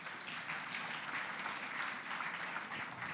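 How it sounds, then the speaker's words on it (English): Sustained applause from an audience, a dense, even wash of clapping that continues without pause, with no voices over it. "please welcome him with a big round of applause"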